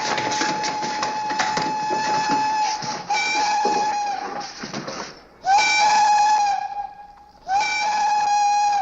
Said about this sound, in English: Checked my watch with the 5 o'clock whistle at the Tombstone mine.